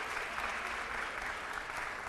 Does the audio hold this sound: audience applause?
yes